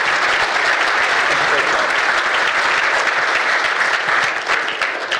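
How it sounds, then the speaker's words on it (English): Sustained audience applause at an agricultural research showcase, a steady dense roar of many hands clapping that carries on for several seconds before easing slightly at the end. "Let's give a big round of applause for Deputy Minister Hale."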